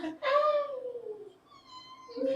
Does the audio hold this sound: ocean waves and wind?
no